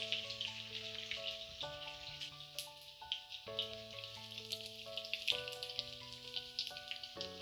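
Fish fried Nepali style in a pan over medium-high heat, a steady crackling sizzle with scattered pops running throughout, partly under background music.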